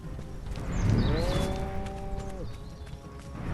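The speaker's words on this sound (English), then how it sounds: "Cows." A cow in the video game Destroy All Humans! lets out one drawn-out, fairly loud moo that rises and then holds, over a rumbling ambient background.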